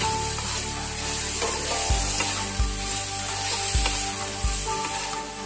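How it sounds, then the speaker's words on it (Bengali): Bite-sized shrimp pieces fry steadily in hot oil in a pan, a continuous loud sizzle with a few soft thumps as the pieces are turned and lifted out, no voices. "মাছগুলি আমি এইভাবে ভেজে আমি তুলে নিচ্ছি।"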